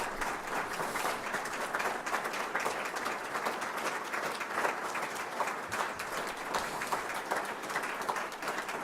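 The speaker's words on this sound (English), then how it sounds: "I'd like all the staff members of our football staff stand up for a round of applause." People gathered at a university football press event applaud the football staff in a sustained, steady round of clapping that sounds somewhat distant and never breaks.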